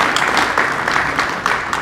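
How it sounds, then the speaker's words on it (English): A crowd claps at a design concept unveiling celebration, a brief, loud burst of steady, dense applause that continues at an even level. "give them a round of applause for all the work they've been doing"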